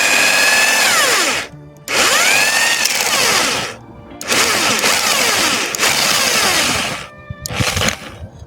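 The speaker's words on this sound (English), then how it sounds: "I am drilling." A power drill with a spade bit whines loudly in several long bursts with brief pauses between, the pitch dipping and rising as the bit bores into a wooden board.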